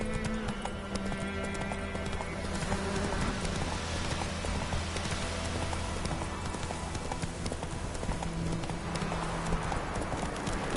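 Horse hooves clip-clopping steadily in The Witcher 3 game, a continuous rhythmic trot heard close with music or ambience underneath and no talk.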